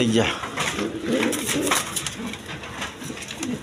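A pair of racer pigeons with two chicks coos in low, repeated rolls close by, while someone talks over them.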